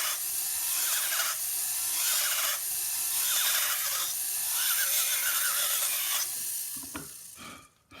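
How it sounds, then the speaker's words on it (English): A rotary file grinds off the inner edge of a handmade braided metal ring, a steady close rasping whir with brief dips in intensity, then a few knocks as it stops. "I'm going to take a rotary file. I'm going to take this inner edge off."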